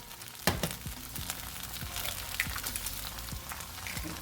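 An egg lands in a hot pan of pad thai and fries, a sharp sizzle burst followed by steady crackling and popping with a few clanks of a utensil; no talking.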